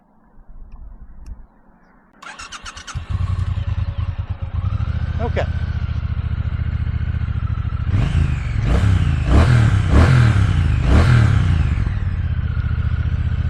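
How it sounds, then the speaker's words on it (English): A 2024 Triumph Bonneville T120's 1200cc parallel-twin engine starts with a clatter, settles into a deep bassy idle, then revs up in several sharp blips; someone briefly speaks. "1200cc parallel twin from Triumph, same sound. It's got a nice little bassy rumble to it"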